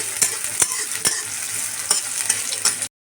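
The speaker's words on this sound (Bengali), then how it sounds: "এ পর্যায়ে আমরা পেঁয়াজ কুচি দিয়ে দিলাম। পেঁয়াজটাকে আমরা ভেজে হালকা নরম করে নিচ্ছি।" Chopped onions fry in hot oil in a pan, a bright, continuous sizzle broken by several quick stirring scrapes and taps, moderately loud and close, with no voices.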